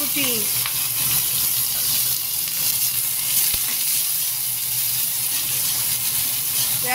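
Chopped dried red chillies frying in a hot pan, a loud, steady sizzling hiss that carries on without a break for several seconds, close up and with nobody talking.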